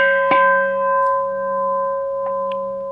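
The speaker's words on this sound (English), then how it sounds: "To begin Tonglen, traditionally the gong rings like this." A meditation gong struck once to begin Tonglen practice, a sharp attack followed by a long, steady ringing hum with sustained overtones decaying slowly in a quiet room.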